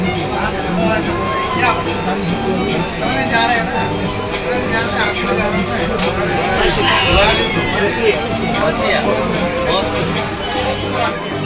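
Kamrup Express train pulling into Nabadwip station, a loud, steady rumble of rolling wagons with squealing wheels and crowd noise around the platform throughout.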